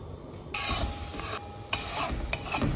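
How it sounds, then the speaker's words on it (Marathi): A spoon stirs sugar and water syrup in a pan on a gas stove, making repeated scraping and swishing strokes with a soft sizzle underneath, close and fairly quiet. "साखर आपण ढवळतो, खाली लागू नये याची काळजी घ्यावी लागते"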